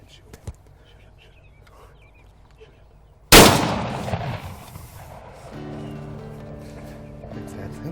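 A single loud shotgun blast fired at a wild turkey during a spring hunt, a sharp sudden crack with a decaying outdoor echo, preceded by soft whispering and followed by quiet voices and rustling.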